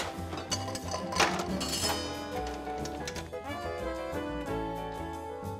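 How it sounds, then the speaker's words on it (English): Bourbon cocktail stirred with ice in a bar, rapid light clinks and rattles of ice against glass, dense at first and then settling into steadier soft tinkling, close with no talk. "And stir with good quality ice."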